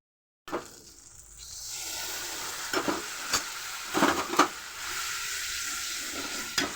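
Spice paste sautés in oil for a spicy rita and tengra fish curry, a low continuous sizzle after a sudden start, broken by a few sharp spatula scrapes against the pan, close with no talk.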